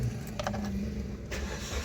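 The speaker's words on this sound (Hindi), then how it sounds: "अल्हम्दुलिल्लाह गाड़ी स्टार्ट हो चुकी है" A Suzuki Wagon R engine starts with the ignition key: a brief cranking whir and then a low, steady idle, close and moderately loud.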